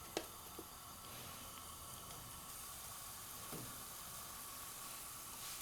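Tempeh pieces fry in a pan of hot oil, giving a steady, faint hiss and sizzle with a couple of small pops near the start.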